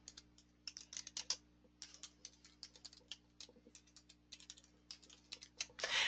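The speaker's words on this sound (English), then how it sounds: "I'm going to type this in." Typing on a computer keyboard while setting lettering text: quiet, irregular bursts of clicking keys, close and faint, with short pauses and a denser flurry of taps at the end, no talk.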